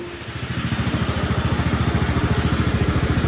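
Riding lawnmower engine running after a cleanup and repair, a loud close-up rhythmic putter that starts and then settles into a fast, even chug with a regular pulsing beat.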